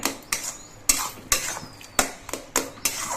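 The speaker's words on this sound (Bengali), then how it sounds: "এবার সব কিছু দিয়ে নেড়ে চেড়ে মিশিয়ে নিতে হবে" Ivy gourd stirred in a pan with salt, turmeric and chili powder: a spoon scrapes and clacks against the metal in about eight sharp, evenly spaced strokes, close and fairly loud, with no talking.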